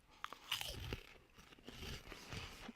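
Cheetos Simply puffs are bitten and crunched up close, giving a quiet run of brittle crackles and munching bursts over a few seconds.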